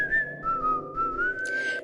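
A single person whistles a wavering melody, clear and close, with sustained tones sliding up and down and no talking.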